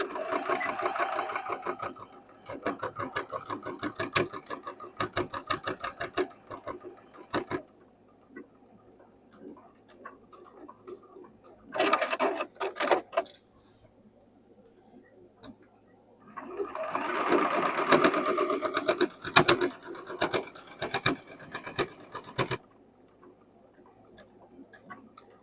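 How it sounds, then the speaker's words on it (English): A sewing machine stitches a patchwork piece in several bursts of rapid, rattling mechanical stitching, with quiet pauses in between and faint handling noise. "So I'm going to sew right up through here and right up through here."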